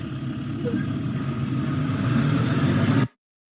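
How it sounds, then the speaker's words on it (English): A Jeep engine rumbles at a constant idle-like drone for about three seconds, then cuts off abruptly into silence. "This is a Jeep."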